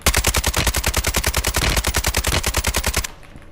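Rapid automatic AK-47 gunfire in Call of Duty: Warzone, a steady, loud burst lasting about three seconds, then cutting off abruptly into near silence.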